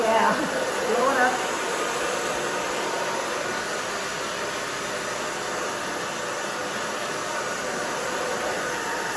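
Hair dryer blowing steadily on a pixie haircut, a loud continuous broadband rush held close for the whole stretch with no pauses.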